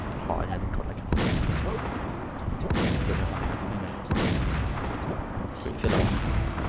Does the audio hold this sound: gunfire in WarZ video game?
yes